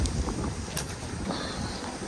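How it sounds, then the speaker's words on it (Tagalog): Steady low wind rumble buffeting the microphone, continuous and fairly loud, with faint outdoor noise and no clear talk. "Mahangin, no? Mahangin."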